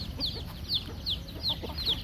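A mother hen with her second brood of chicks gives about five short, evenly spaced clucks, moderately near against a soft outdoor background.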